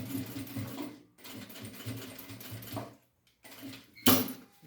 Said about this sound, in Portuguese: eu comecei a costurinha lá na lateral, lá atrás